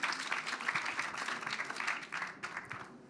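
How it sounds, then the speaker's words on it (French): A small audience at a business financing talk gives a short round of applause, fairly quiet and moderately distant, with uneven clapping that thins out near the end. "Voilà, les applaudissements."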